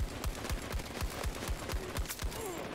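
Rapid, evenly spaced gunfire from a DM7 rifle in the Battlefield 2042 video game, about a dozen sharp close shots at a steady rhythm over continuous battle noise.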